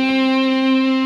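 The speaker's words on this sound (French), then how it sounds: "j'ai continué avec des guitares un peu effets" An electric guitar run through Amplitube 3 effects with echo rings out as one sustained, distorted tone, bright and steady for about a second.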